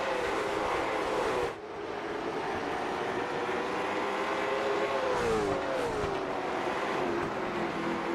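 Late model stock cars race around the Hickory track, engines droning and rising in pitch as they pass, a continuous loud roar with one car sweeping by close.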